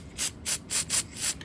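CowRC electronics cleaner and degreaser is sprayed onto a radio-controlled car in five short, close hissing bursts at an even pace, with no one speaking.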